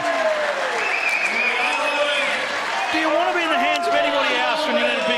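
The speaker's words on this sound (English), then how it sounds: "The biggest roar we've heard tonight from this crowd at Club Pine Rivers" Crowd at a lawn bowls match at Club Pine Rivers roaring and applauding loudly after a big shot, a steady close wash of cheering and clapping with commentators talking over it.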